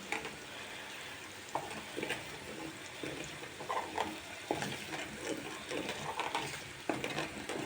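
Eight eggs frying in a small pan, a steady soft sizzle with intermittent louder crackles and pops, heard close up and fairly quiet.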